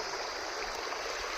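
The Penna river flows past a hilly village, making a steady, even rush of water with no breaks. No one speaks.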